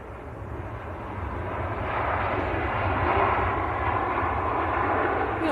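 An airliner arriving at Manchester Airport after a flight from Jeddah gives a steady, broad jet roar that swells slightly and holds, fairly close and loud, with no talk over it.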